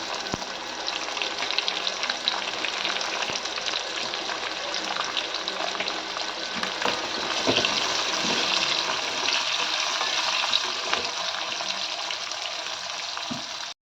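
Onions frying in a pan: a steady, moderately quiet sizzle with a continuous crackling hiss throughout, faint occasional clicks, no voices.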